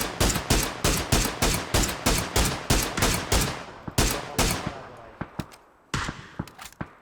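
PUBG gunfire in a ranked match: a loud, evenly paced string of close single shots, then a few more spaced shots after a brief pause.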